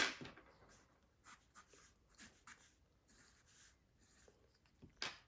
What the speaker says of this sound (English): I'll erase this whole leg right now, and I'll redraw it.